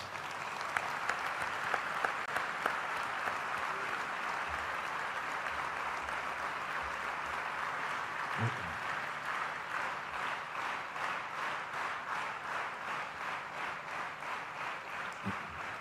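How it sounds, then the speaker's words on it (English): Devotees at an ashram birthday celebration for Sri Sathya Sai Baba applaud the Seva Dal volunteers with a long, fairly soft round of clapping that settles into a faintly rhythmic, sustained patter. "So I think we all need to give the Seva Dal a big round of applause."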